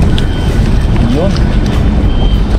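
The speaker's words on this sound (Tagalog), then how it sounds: "medyo mahangin po dito." Steady wind buffets the microphone at a waterside fishing spot with a constant rushing roar, close and loud throughout.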